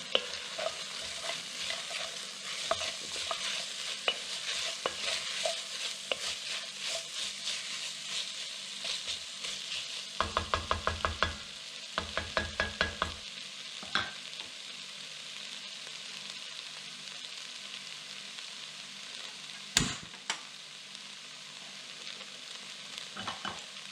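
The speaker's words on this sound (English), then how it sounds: "We're going to add all the spices. Give them a quick stir." Spices for a red lentil soup with vegetables are stirred in a hot pot, a continuous sizzle broken by scraping strokes and a brief burst of rapid clattering stirs midway, plus one sharp knock near the end.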